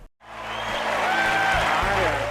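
A broad wash of crowd clapping swells in after a brief gap and holds steady, loud and continuous, with cheering mixed in.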